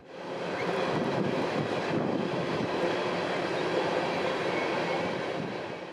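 An empty CSX coal train rounds a curve on the W&A line in North Georgia, a steady broad rumble of wheels and cars rising in and holding loud and continuous, with no talk.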